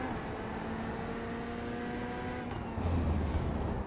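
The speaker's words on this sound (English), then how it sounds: "the Corvette, it sounds a bit annoying on the inside" Cabin engine drone of a Corvette GT3 race car in a racing game at Circuit de Barcelona, a steady high-pitched tone with a rising whine, and a deeper rumble coming in near the end; no talking.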